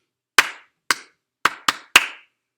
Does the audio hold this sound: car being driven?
no